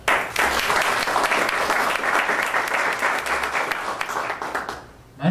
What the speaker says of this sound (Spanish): les solicito que lo recibamos con un aplauso